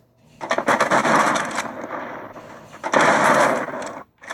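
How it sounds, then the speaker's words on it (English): Two loud shotgun-style blasts with explosive bursts ring out in Halo 5 Guardians, each a crackling roar about a second long, separated by a brief lull. "Which creates like a super laggy explosion."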